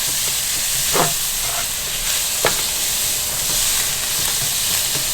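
Ham steak and country sausage frying in a skillet on an outdoor camp stove, making a loud, steady sizzle and hiss throughout, with a few soft clicks of utensils.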